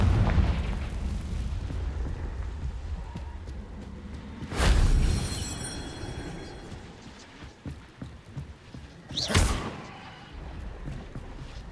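Confringo fire spell explosions in the video game Hogwarts Legacy: two loud, booming blasts several seconds apart, each flaring suddenly and then rumbling away over a low ambient background.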